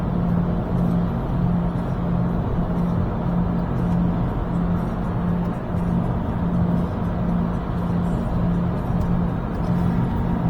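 Steady, low road rumble from inside a car driving along a road, a constant engine and tyre drone with no clear passes or voices, even and unbroken throughout.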